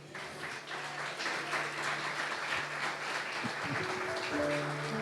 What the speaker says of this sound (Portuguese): Dê um aplauso para Jesus.